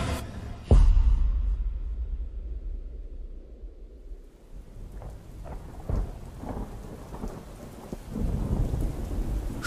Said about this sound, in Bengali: সন্ধ্যার দিকে বৃষ্টিটা ধরে এলেও মাঝরাত থেকে আবার একটানা ঝমঝমিয়ে পড়ে চলেছে